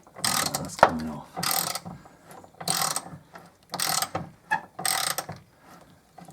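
A hand ratchet clicks in short bursts while undoing a rear roll bar bolt on a 2001 Mercedes SLK, five or six loud close runs of rapid pawl clicks separated by brief pauses between strokes.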